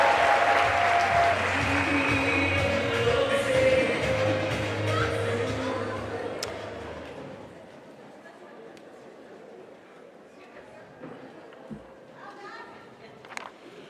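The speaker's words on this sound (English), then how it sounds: "give yourselves a nice round of applause" An audience of colleagues at an education conference gives a warm round of applause, loud and full for several seconds before thinning out into scattered claps and quiet room noise.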